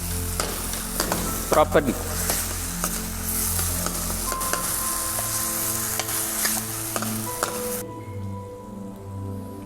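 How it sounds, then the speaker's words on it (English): Tempering for sarson da saag sizzles and crackles steadily in a pan while being stirred, close and continuous with scraping clinks, and a brief spoken word is heard over it. "Now as we can see, the tempering is ready."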